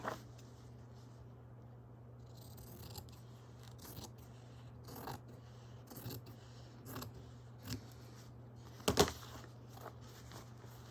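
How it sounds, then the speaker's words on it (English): Scissors cutting through a fabric sticker sheet trimmed to size, a few quiet snips and rubbing scrapes over a steady low hum, with one sharper cut near the end. "So I just cut to size."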